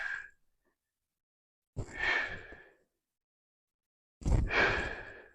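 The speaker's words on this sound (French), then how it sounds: "J'expire à l'effort et j'inspire en bas." Breathing during a shoulder exercise: two forceful, breathy exhales a couple of seconds apart, each after a short opening breath, close and fairly soft, with silence between.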